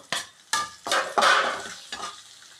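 Mustard seeds, garlic, green chilli and spice powders (chilli, turmeric, fenugreek, asafoetida) fry in hot oil for a chicken pickle, with close, loud bursts of sizzling and a spoon stirring and scraping the pan in several strokes.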